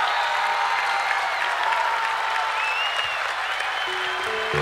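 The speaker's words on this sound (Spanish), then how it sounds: "Un fuerte aplauso para la maestra" Steady applause from a festival audience at an outdoor folklore event in San Bernardo, honoring a teacher; continuous even clapping with crowd noise, moderately loud throughout.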